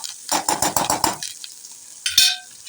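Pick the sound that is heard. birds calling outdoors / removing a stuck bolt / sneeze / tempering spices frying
tempering spices frying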